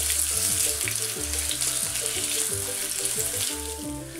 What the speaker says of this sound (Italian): Andiamo ad aggiungere per prima cosa le carote. E cuociamole per 2-3 minuti girando spesso.